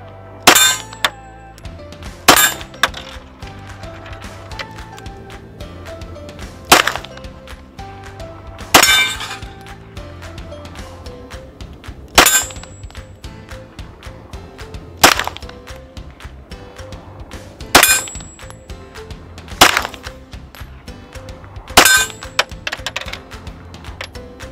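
Glock 34 Gen 5 pistol fired at steel targets on a shooting range, with about ten sharp, loud cracks and metallic rings spaced roughly two seconds apart, and no talking.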